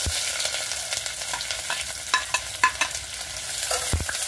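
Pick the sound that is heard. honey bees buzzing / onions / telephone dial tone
onions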